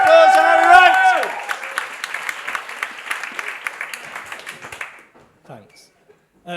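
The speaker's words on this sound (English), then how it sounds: "big round of applause for Harry Wright!" A stand-up comedy audience applauds and cheers for comedian Harry Wright, starting under a loud announcer's voice, then brisk clapping that fades out after about five seconds into near silence.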